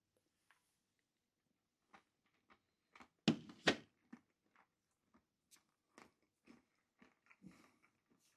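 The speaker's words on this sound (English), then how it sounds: "Let's have a little nibble on Nobby's nuts." Nuts are chewed close to the mic, with a run of quiet crunchy bites and a couple of louder crunches near the start, then spaced, softer chews with gaps of silence between them.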